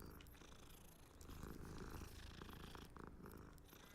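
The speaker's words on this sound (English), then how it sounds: "There's a cat." A cat purrs close by in a soft, continuous rumble that swells slightly midway, with no talking over it.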